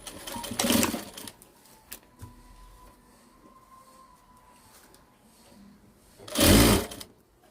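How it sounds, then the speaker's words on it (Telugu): A sewing machine stitches a zip onto a girl's long frock in two short loud bursts, one at the start and one near the end, with quiet handling of the fabric in between. "ఇప్పుడు జిప్ ఓపెన్ చేసేసి ఇట్లా ఓపెన్ చేసేయండి ఇది ఇక్కడికి వచ్చింది ఈ లైన్ చూసుకున్నాం కిందకేమన్నా మనం ఆ లైన్లో కుట్టేసుకోవాలి ఇట్లా"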